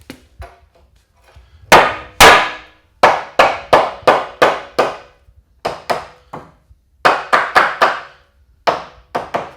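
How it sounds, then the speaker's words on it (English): Hammer driving nails into wooden wall studs while framing a basement, a sharp series of loud, close blows in quick clusters with brief pauses, a few faint taps at first. "Another method is hammer and nails."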